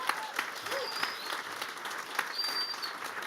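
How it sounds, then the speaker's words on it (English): An audience at a Google HQ demo day applauds app presenters with steady, moderately loud clapping that sounds close, and a few whoops rise briefly over it. "Let's give them another round of applause."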